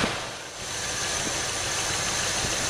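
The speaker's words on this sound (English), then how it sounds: "It's at least idling." A 1978 Oldsmobile Cutlass Calais engine idles steadily at close range, running rough, a continuous mechanical rumble with faint ticking from the distributor, no voices.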